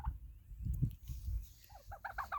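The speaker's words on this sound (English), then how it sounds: "These hens are able to wander around and peck the grass, peck the bugs" Free-ranging hens on an egg farm, pecking at grass and bugs, give soft low clucks, then a quick run of brighter, repeated calls near the end, faint and close.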